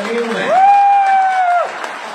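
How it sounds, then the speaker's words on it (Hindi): Virtual applause sound effect played at a seminar in Indore, a short burst of clapping that swells and ends abruptly, loud and close over a tonal electronic note. "यहाँ पे एक वर्चुअल तालियां बजती है"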